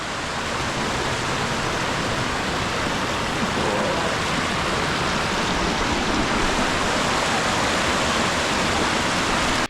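Mitchell Falls in the Kimberley, reached along the Gibb River Road, pours with a constant broadband roar of rushing water, loud and close, steady throughout without any voices.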